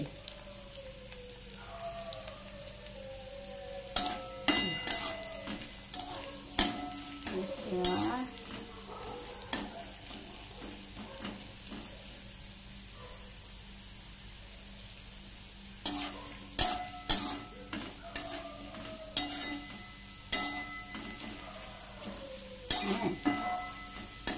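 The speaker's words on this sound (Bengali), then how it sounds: "এই যে আলু ভাজছি" Potatoes sizzle steadily in a hot pan while a utensil scrapes and stirs them in irregular bursts, with quieter stretches of frying between.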